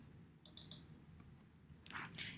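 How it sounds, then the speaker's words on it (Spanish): A computer mouse double-clicks on a chart axis in graphing software: a quick pair of soft clicks, then one lone click and another short burst, all faint over a steady room hiss, with no talk. "Doble clic al eje."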